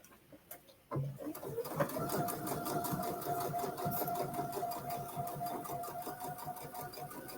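A Luminaire sewing machine stitches quilt binding, starting after a soft click and settling into a steady, close, rapid mechanical whir with a regular ticking rhythm that holds to the end.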